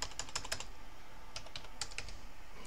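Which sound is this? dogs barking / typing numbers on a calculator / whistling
typing numbers on a calculator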